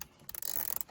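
A ratchet loosening Torx screws under the dash of a 2000–2005 Chevrolet Impala, a quick run of close, faint clicking pawl ticks after a short quiet start.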